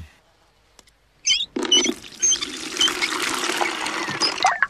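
Water pours steadily into a bucket in a Peppa Pig cartoon, a loud, continuous splashing rush that starts after a brief pause and runs for about three seconds with no talk over it.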